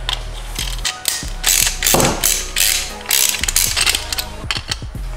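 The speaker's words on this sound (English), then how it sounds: "So we're going to go ahead and unscrew this." A ratcheting driver with a Torx T25 bit unscrews a screw on a BMW M3's side marker, giving quick repeated clicking ratchet strokes in several bursts, close and alone.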